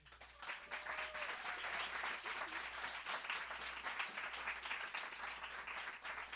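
Applause from a literary reading audience after a poem, sustained clapping from a modest crowd heard at some distance, fairly quiet overall, holding steady for several seconds.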